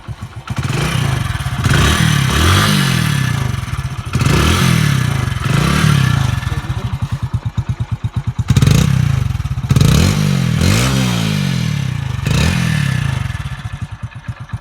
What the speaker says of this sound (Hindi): एक बार मैं आपको इसकी आवाज़ और सुना देता हूँ।